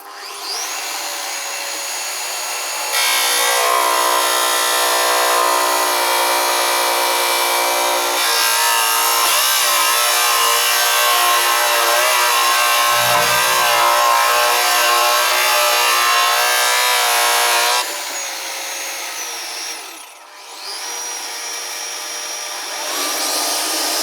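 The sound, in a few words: drilling holes in wood for wall cabinet, 12 mm deep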